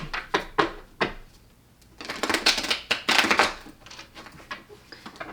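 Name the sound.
shuffling tarot cards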